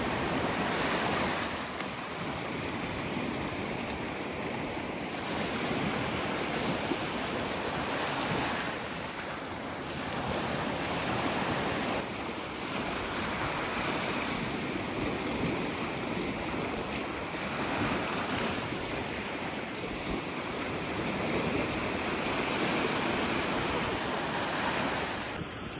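Ocean waves wash steadily onto the beach at Desaru Coast, Malaysia, in repeated swells, with a constant background rush and some wind, no voices.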